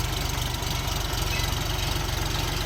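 A small tractor engine runs steadily close by with a fast, even knocking putter and a constant mechanical whine, no voices present.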